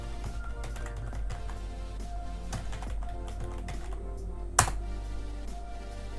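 Someone typing on a computer keyboard: scattered quick key clicks in short bursts over a steady low background hum, with one sharper louder tap near the end.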